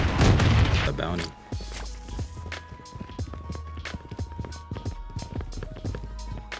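Gunfire in the mobile shooter Blood Strike, a series of sharp, fairly close shots spaced irregularly after a loud opening burst, over a steady low game drone with brief voice chatter.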